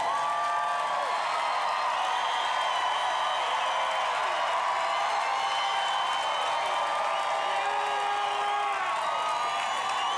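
An audience at Tragically Hip Day in Kingston gives a long, steady round of applause, with dense clapping and scattered whoops and cheers sustained evenly throughout.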